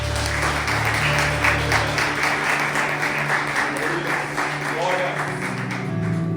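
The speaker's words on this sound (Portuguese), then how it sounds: "e as palmas louvem ao Senhor." A church congregation claps in praise of the Lord at a Portuguese service, a continuous dense crackle of applause at steady volume over sustained low instrumental tones and scattered voices.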